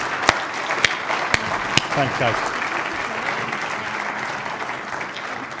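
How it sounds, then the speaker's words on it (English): A room applauding a buyer panel, a few loud close claps first, then steady broad applause continuing while a voice briefly speaks over it. "let me just give you a little round of applause."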